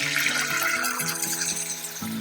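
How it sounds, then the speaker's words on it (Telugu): Water pours steadily into a cooking pot of fried ingredients for moong dal, a continuous splashing gush with a faint low hum beneath, close by and fairly loud. "అప్పుడు మనము దీనిలో వాటర్ పోసేసుకోవాలి"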